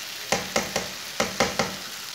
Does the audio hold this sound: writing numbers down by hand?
no